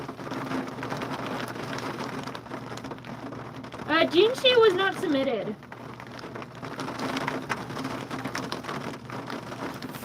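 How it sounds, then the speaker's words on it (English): Heavy rain pours steadily throughout, a dense hiss, with a voice speaking briefly in the middle. "it's raining over here. It's so loud."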